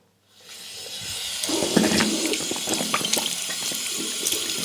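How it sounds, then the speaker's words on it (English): Water runs steadily from a bathroom sink tap while someone rinses their mouth after a homemade teeth-whitening treatment, with splashing and gurgling bursts close by and no talk. "I'll go ahead now and rinse out all this from my mouth."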